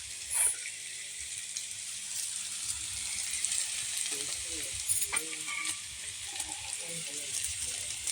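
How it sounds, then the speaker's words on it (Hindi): Maggi noodles frying in a pan with their spice mix stirred in, a steady close sizzle with scraping stir sounds and a few clinks, no voices. "चलिए ये भुंजा गया है, इसमें हम डाल दे रहे हैं मसाला।"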